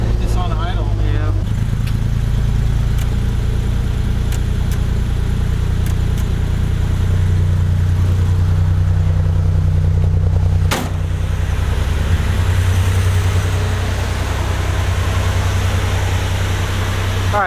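A 1974 Datsun 260Z engine idling with a steady low rumble, loud and close, while people talk over it.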